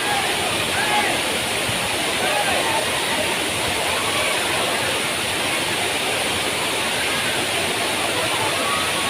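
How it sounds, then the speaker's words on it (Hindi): Ghatarani waterfall near the Jatmai Ghatarani temple, a loud continuous rush of falling water, heard close and steady throughout as a dense roar with no breaks. "ऐ झरना तो बेहतरीन लगते थे।"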